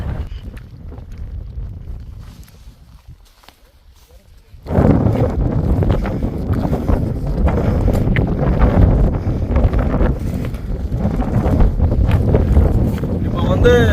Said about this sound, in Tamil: மக்களே, இந்த இடத்துல பயங்கரமான காற்று இருக்கு